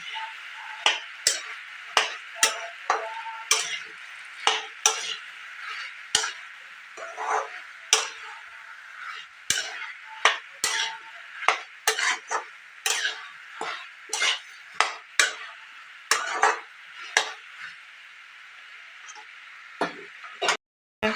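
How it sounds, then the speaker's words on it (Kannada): Green chillies frying in oil in a pan as they are stirred, with steady crackling sizzle and many sharp pops and spatters in irregular bursts, close and fairly loud throughout. "ಮುಳಗಾಯಿ ಸ್ವಲ್ಪ ಚೆನ್ನಾಗಿ ಫ್ರೈ ಆಗಬೇಕು ಫ್ರೆಂಡ್ಸ್"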